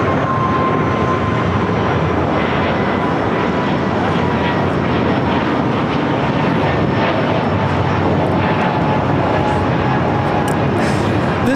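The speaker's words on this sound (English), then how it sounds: "This is Breeze Airways Moxie 535 taking off to Richmond, Virginia on an A220-300." A Breeze Airways Airbus A220-300 takes off from LAX with its engines at full power, a loud, continuous roar with a thin high whine running through it, steady and close for the whole stretch.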